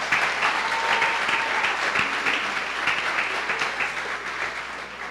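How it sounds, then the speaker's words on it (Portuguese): A church congregation at Igreja de Nova Vida do Catete gives a sustained round of applause during a worship service, the clapping loud, dense and continuous throughout. "Dê uma salva de palmas ao Senhor"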